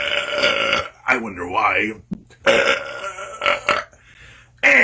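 Big, drawn-out burps come one after another in a loud, close, croaking series, with someone speaking briefly between them.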